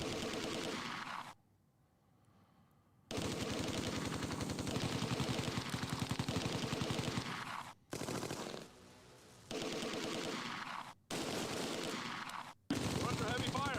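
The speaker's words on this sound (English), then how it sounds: "Under heavy fire." Gunfire and machine guns in the tactical war video game Close Combat 2: A Bridge Too Far: loud, dense rattling bursts and sustained volleys, broken by a few short quiet gaps, with battle noise throughout.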